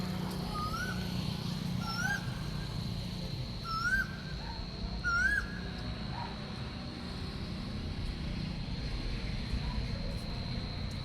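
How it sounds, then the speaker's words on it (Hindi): Asian koel calling in the evening, a few rising whistled notes repeated at intervals of about two seconds and growing slightly louder, set over a steady low ambient hum with no one speaking. "कोयल बोल रही है दोस्तों कभी कभी।"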